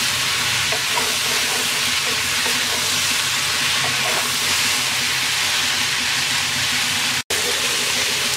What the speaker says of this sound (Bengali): এবার মিডিয়াম আঁচে ভেন্ডিগুলোকে 2-3 মিনিট ভেজে নেব।